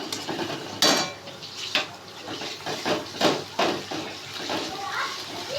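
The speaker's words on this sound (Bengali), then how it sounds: "এবার মশলাটাকে আমি একটু কষতে দেবো যাতে কাঁচা গন্ধটা চলে যায় মশলার" Spice paste with chilli stirred and fried in a pan for shahi paneer, with scraping and wet sizzling bursts from a spoon at close range and a voice talking in between.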